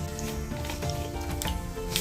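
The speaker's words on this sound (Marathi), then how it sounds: "मोहरी छान तडतडलेली आहे" Mustard seeds crackle and splutter in hot oil for a tempering, a steady close sizzle broken by small pops, with no voices.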